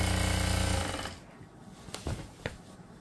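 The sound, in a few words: sewing machine stitching gota trim onto a lehenga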